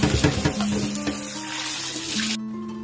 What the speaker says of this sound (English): Wash it 3 times to remove excess salt.